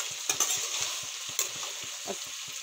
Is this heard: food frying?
yes